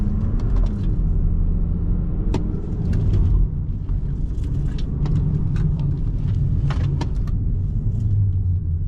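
A production racing car runs a coned slalom test course, its engine rumbling low and close throughout, with clicks and rattles in the cabin and no talking.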